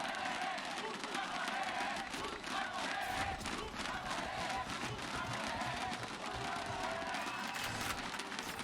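Arena crowd at a VALORANT Game Changers Championship knockout match between Team SMG and Team Liquid Brazil, a dense, steady roar of cheering voices that holds at a constant level throughout, with shouting rising above the wash.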